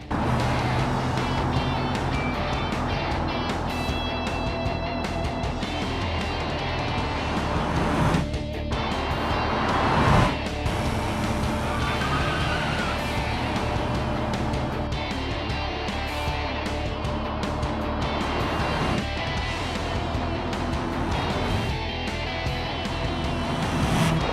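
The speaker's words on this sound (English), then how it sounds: "It's officially a car, and I plan to drive it like one." A four-wheel Pigeon car driven hard in the BeamNG.drive racing game: a loud, continuous engine drone that rises and falls with gear changes and throttle, close and without any talk.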